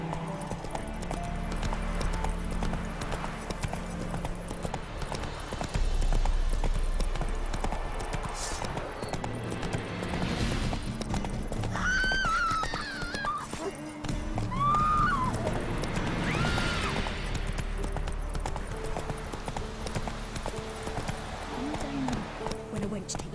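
Roach the horse gallops in The Witcher 3: Wild Hunt video game, with a continuous clip-clop of hooves and a whinny partway through, under a game soundtrack and a speaking voice.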